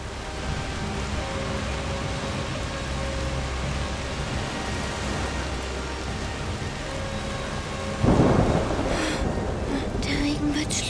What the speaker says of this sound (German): Der Regen wird schlimmer. Das ist nur ein Sturm.